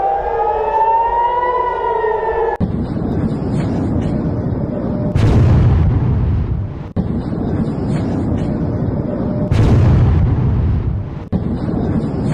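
Ballistic missiles strike Tel Aviv, with loud booming explosions rising out of a rumbling background at a few points, after an opening stretch of wailing air raid siren.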